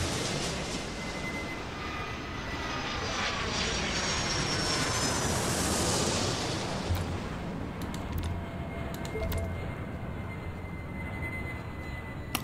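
Airliners taking off from parallel runways in the Airport Madness video game, a sustained jet engine roar that swells toward the middle and then eases off, with faint clicks late on.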